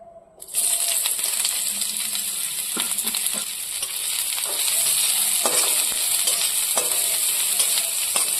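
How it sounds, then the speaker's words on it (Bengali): Onions hit hot oil in a kadai for egg pasta, bursting from quiet into a loud, steady sizzle that continues with intermittent stirring clinks and scrapes, no talk. "এখন আমরা পেঁয়াজগুলোকে ফ্রাই করে নেব প্রথমে"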